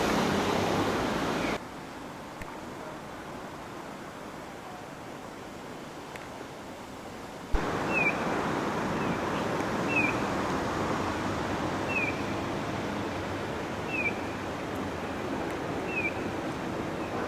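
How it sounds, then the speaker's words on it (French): Broad steady rushing of a river flowing through a town in Toyama, Japan, a continuous wash of water noise that drops briefly then returns louder, with faint repeated bird chirps above it. "Rivière dans la ville."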